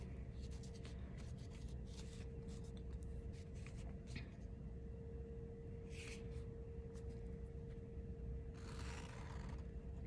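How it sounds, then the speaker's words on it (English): A pencil traces around a paper template for ceramic coasters, making faint scratchy strokes in short bursts over a low steady background hum, with brief rustles of paper. "I'm tracing it"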